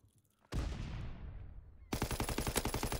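Gunfire in a 3v3 tournament shooter video game match on the London Docks map: a loud close blast with a long decaying tail, then a rapid burst of automatic fire with a steady rattling rhythm.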